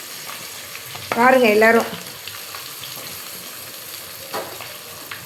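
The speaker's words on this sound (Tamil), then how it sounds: "வெங்காயம் வதங்கட்டும்" Onions sauté in a pan for a quail gravy, a steady close sizzle and hiss with occasional stirring scrapes, briefly overlaid by a woman's short spoken phrase.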